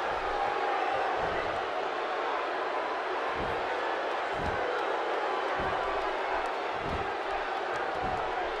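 A roaring Dallas arena crowd in WWE 2K17 wrestling keeps up a steady, dense cheer throughout, with periodic heavy thuds of ring impacts breaking through.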